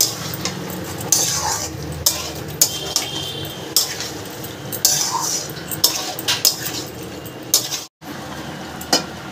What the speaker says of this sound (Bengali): আর ভালো করে এটা দিয়ে একটু কষাতে হবে।